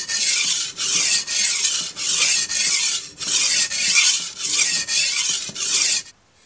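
A Shun cleaver blade being sharpened on a whetstone after repair: close, rhythmic rasping strokes, about eight even passes with short pauses between, ending in quiet.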